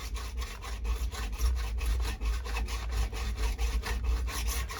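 Hacksaw cutting a sewage drain pipe, with rapid, steady back-and-forth rasping strokes, close and fairly loud, continuing without pause and without talking.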